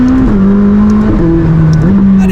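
A 2019 McLaren 600LT revs hard up through sharp gear changes, its engine note stepping up and dropping back several times with exhaust pops, loud and close with no speech.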